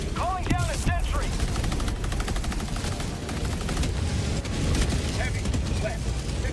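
A sentry turret fires in Helldivers 2 amid a chaotic battle, sustained rapid gunfire and booming impacts forming a dense, loud wall of sound, with voices and some chirping effects mixed in.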